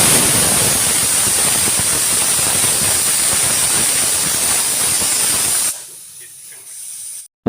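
A pressure cooker lets off a single loud, continuous steam whistle while ridge gourd dal cooks, a close, hissing blast that cuts off abruptly near the end.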